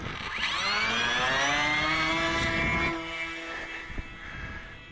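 Video game aircraft launching in fly-by-wire mode, its engine whine sweeping up in a rising tone, then holding steady before easing off, with no talk.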